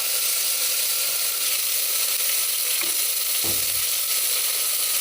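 Finely chopped onions frying in a pan, a loud continuous close sizzle with a spoon scraping and stirring near the end, no voices.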